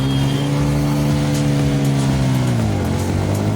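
Honda SP 125 and Yamaha MT-15 motorcycles accelerating hard in a drag race, a loud close engine drone holding steady and then sliding down in pitch as one pulls past, no talk.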